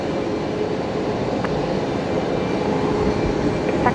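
A Boeing 737 Max 8 jet engine spooling up at Brisbane Airport, a steady, broad roar heard from a distance that holds at a constant level throughout.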